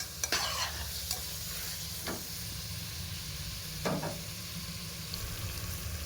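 Tomatoes sizzle softly and steadily in a pan of goat meat masala, punctuated by a few short scraping stirs spaced several seconds apart.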